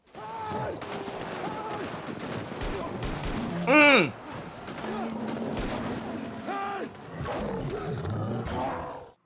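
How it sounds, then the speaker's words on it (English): A growling infected creature in an episode of The Last of Us, heard as a harsh roar that swells briefly amid gunfire and chaotic dramatic sound, with people talking and reacting over it. "All you hear is that fucking growl."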